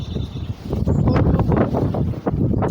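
Cold wind on a wet, snowy day buffets the microphone outdoors: a loud, continuous rumbling roar with gusty surges throughout, close and heavy, with no talking.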